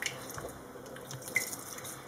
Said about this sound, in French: je vais l'arroser avec de l'eau